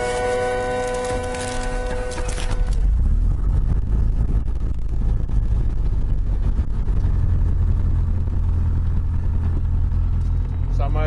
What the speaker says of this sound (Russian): Разрешите запуск двигателя для прогрева двигателя?